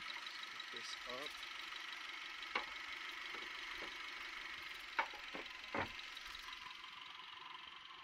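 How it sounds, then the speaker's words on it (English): A 2004 Mitsubishi Lancer ES engine idling under an open hood, a low, steady hum held throughout with a few brief clicks and knocks, while someone talks quietly over it. "There's the engine purring."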